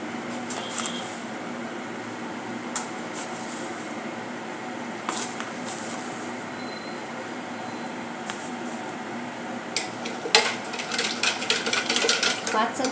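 A spoon clinks and scrapes against a cup while Tang instant powder is spooned into sugar water, with repeated light metallic taps that grow busier toward the end as the powder is stirred.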